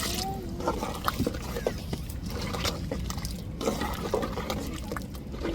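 Water saved from grinding splashes and gurgles as it is poured into a cooking pot, with small bubbling and dripping sounds, close by and fairly steady.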